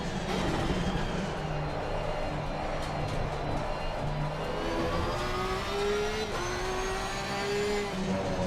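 A Porsche race car in a sim racing game accelerates hard in fifth gear, its engine note climbing steadily and loudly. It is heard close and continuous, with no talking over it.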